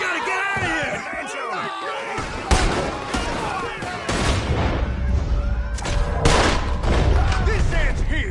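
Gunfire in a Red Dead Redemption 2 shootout: bursts of shots crack out from about 2.5 seconds onward, dense and loud, mixed with shouting voices and game noise, after an opening stretch of talk.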